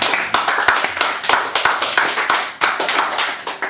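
Audience applauding a performer at an evening show of acts, a dense patter of clapping hands close and steady throughout, swelling slightly in waves with no voices over it.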